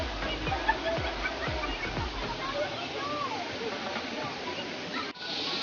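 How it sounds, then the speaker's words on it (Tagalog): Bolinao Falls 1 gives a steady, broad rush of falling water that fills the whole scene, with a few faint voices mixed in. "we're here na at Bolinao Falls 1 kaya makita niyo yung falls"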